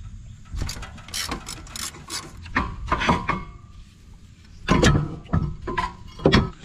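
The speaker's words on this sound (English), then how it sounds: "I say a ratcheting wrench is your best friend on your rear calipers" A ratcheting wrench clicks in quick bursts while loosening rear brake caliper bolts on a Nissan 300ZX, close and fairly quiet, with pauses between sets of sharp ratchet strokes.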